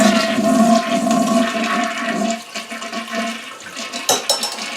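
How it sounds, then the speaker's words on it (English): A toilet flushes as its tank empties, loud and close, with a steady rushing swirl of water that fades into gurgles and small splashes near the end. "Then we'll flush."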